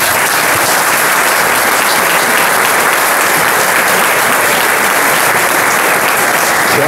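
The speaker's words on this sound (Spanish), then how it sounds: "sirva el aplauso colectivo como fortaleza para mantener la tradición" Loud, dense collective applause from a crowd at the presentation ceremony of a national gathering of giants and big-heads in Abarán, a close, unbroken roar of clapping throughout.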